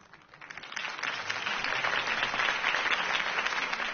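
Applause from a crowd builds quickly and holds steady, a dense patter of many hands clapping.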